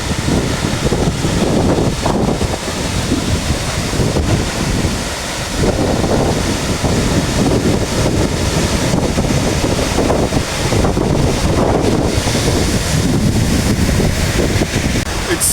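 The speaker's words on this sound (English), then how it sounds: "It's so windy" Strong wind buffets the microphone beside a rainforest waterfall in Killarney, Queensland, a loud continuous roar of gusts and rushing water that persists throughout with no pauses.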